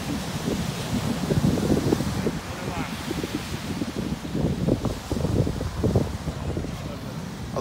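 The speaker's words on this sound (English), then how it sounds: "A little breezy." Breezy wind on a Florida beach with seaweed washed up, a steady rumbling buffet across the microphone that covers the whole stretch, with a voice talking faintly underneath.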